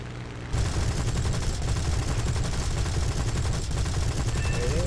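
A Spitfire Mk.Vb in War Thunder fires its machine guns in one long sustained burst, a loud dense rattling roar that kicks in abruptly after a brief quiet moment.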